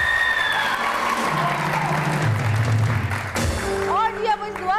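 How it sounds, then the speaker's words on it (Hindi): A studio audience claps loudly together, a dense close burst of applause that swells and then tapers off, while a voice talks over the clapping. "तो एक दफ़ा खुद अपने लिए ज़ोर से तालियां बजाइए"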